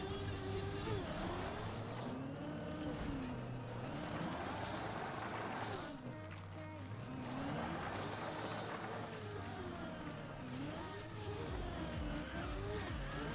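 A car slides across ice in the Trackmania racing game, its engine drone rising and falling steadily throughout, close and loud, with tire skid noise and game effects layered underneath.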